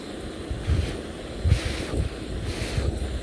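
Breath blown across the flame of an MSR Pocket Rocket Deluxe camping stove outdoors produces loud, gusty rumbling microphone buffeting in uneven surges, with no speech.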